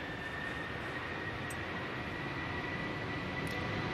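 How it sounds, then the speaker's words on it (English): A Ryanair Boeing 737 MAX powers up for takeoff at a windy Manchester Airport, heard as a steady, distant broadband engine roar with a faint high whine, fairly quiet and unbroken by voices. "Right, Ryanair Max about to go."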